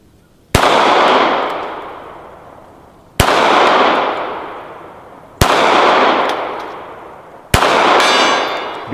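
Four loud shots from a Remington RM380 pistol, each followed by a ringing steel gong, come at spaced intervals, every sharp crack trailing into a long metallic ring that slowly fades.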